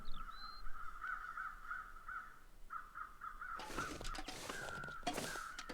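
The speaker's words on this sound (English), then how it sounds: "Those crows sound like they're coming from over there somewhere." Crows caw repeatedly in The Long Dark's outdoor wilderness, a run of harsh calls heard at a distance and then joined by a louder, denser burst of cawing in the second half, with no talking.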